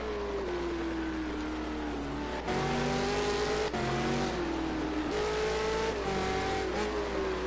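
V8 Supercar racing engines roar past at the Long Beach street circuit, several cars in close succession with rising and falling engine pitch and gear changes, loud and continuous with no voices.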